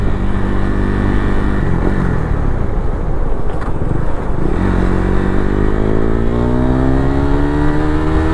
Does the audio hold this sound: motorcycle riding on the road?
yes